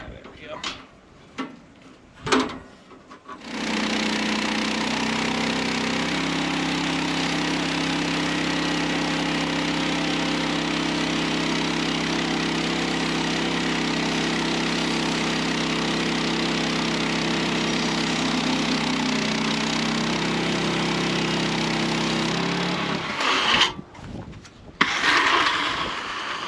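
A sawmill engine runs steadily and loud while the blade cuts through spruce lumber, a sustained droning roar lasting about twenty seconds, with brief knocks and handling clatter before and after.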